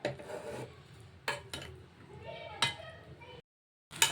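Vegetable macaroni pasta being mixed in a pan on the stove, close rasping scrapes and rubs of a utensil across the pan in short uneven strokes, with a brief silent gap near the end.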